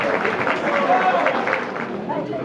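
Audience applauding loudly at an accordion performance in Sclayn, a dense, steady patter of many hands clapping close by, with voices mixed in beneath it.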